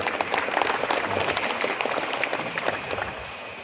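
Audience applause at a school principal handover ceremony, a dense, lively burst of many hands clapping that stays strong throughout and eases slightly at the end.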